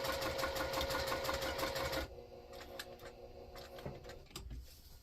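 Sewing machine basting fabric, a fast even stitching whir for about two seconds, then it stops and gives way to quieter handling clicks and taps up close.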